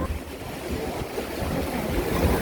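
Rushing water from a rapids boat ride at PortAventura theme park, a steady close wash of churning water and wind noise throughout, with no clear talk.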